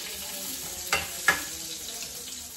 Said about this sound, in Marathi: तेल गरम झाल्यानंतर त्याच्यामध्ये आलं लसूणची पेस्ट, बारीक कापलेली मिरची